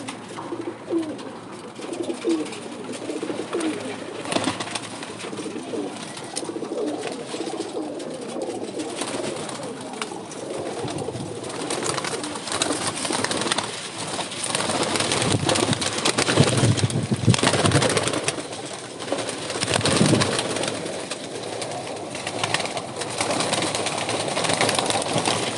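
Fancy pigeons kept by a breeder coo repeatedly in low, throaty calls, overlapping against a noisy outdoor background with occasional louder bursts throughout.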